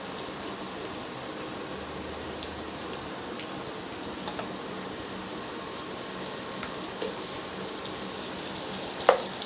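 Chilli chicken frying in a pan with capsicum added, a steady close sizzle running throughout with occasional light ticks and a sharp clink near the end, no voices.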